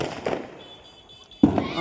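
A firecracker bursts with a sharp, loud bang near the end, after a softer pop and a quieter stretch of crackling residue.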